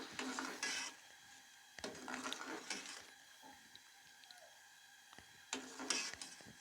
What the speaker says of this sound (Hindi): इसको अच्छे से यहाँ पे मिक्स करेंगे।